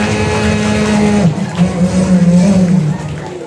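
A human voice imitates a tree-cutting machine, a sustained droning buzz that dips and rises in pitch like a chainsaw biting into wood, loud and close, performed as mimicry at a St. Thomas day celebration.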